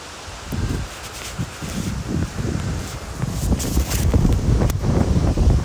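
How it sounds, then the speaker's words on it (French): Strong outdoor wind buffets the microphone in gusty low rumbles that swell and build toward the end, with no talk over them. "si vous m'entendez pas très bien, malheureusement c'est parce qu'il y a trop de vent"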